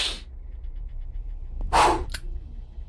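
A single close, sharp sneeze bursts out after a quiet intake of breath, followed by a brief snort, with no talking.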